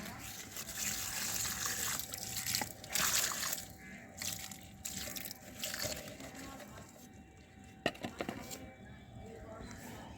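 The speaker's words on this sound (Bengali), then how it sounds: "এবার আমি জল দিয়ে দেব।" Water is poured from close by onto freshly planted banana roots in the soil, an uneven trickling and splashing that comes in bursts, with a sharp knock near the end.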